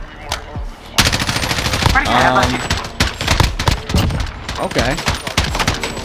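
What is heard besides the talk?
gunfire in a Search and Destroy video game match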